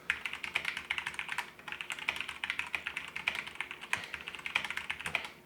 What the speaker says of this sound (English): So we will do a little bit of a type test here.